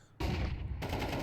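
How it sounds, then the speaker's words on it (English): In a Counter-Strike match at the ESL Challenger League, a wallbang fires through cover as a loud burst of gunfire that hits suddenly and keeps going for about a second, with a sharper crack near the end. "Nice wallbang onto the low HP player."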